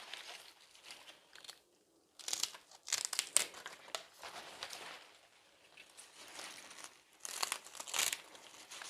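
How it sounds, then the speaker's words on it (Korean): A knife slices through bunches of young radish greens (yeolmu) being trimmed for water kimchi, giving crisp crunching and rustling cuts in several short bursts separated by quiet pauses. "이것도 5cm나 6cm 정도 되게 이렇게 잘라주세요"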